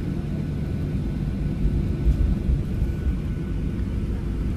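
Steady low cabin rumble aboard a Garuda Indonesia airliner, a constant broadband engine and air drone at even loudness with no distinct events.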